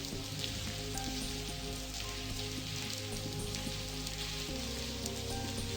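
Steady rain falls throughout a scene in the point-and-click game The Blackwell Convergence, a constant hiss and patter of drops mixed with a low, sustained musical drone, no talking.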